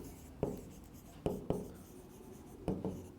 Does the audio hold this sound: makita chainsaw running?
no